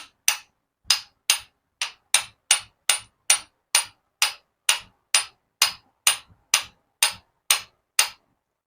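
Steady metallic hammer taps on the trigger housing of a semi-auto PCP air rifle, about two per second, sharp and close, repeating evenly with nothing else around them.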